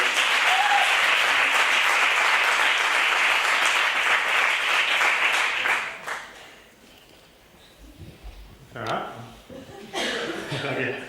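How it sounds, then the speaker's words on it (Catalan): An audience at a magic show bursts into loud, sustained applause for about six seconds, then the clapping drops away to scattered chuckles and murmuring with a few brief renewed bursts. "fort aplaudiment per a Raquel"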